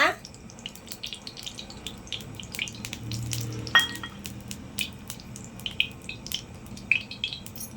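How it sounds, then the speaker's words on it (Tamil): Oil poured into a hot, dry kadai while making chicken macaroni at home, giving a light crackling sizzle with scattered sharp pops and ticks over a low background hum. "இப்போ வடசட்டி காஞ்ச உடனே நம்ம எண்ணெய் ஊற்றிக்கலாம்"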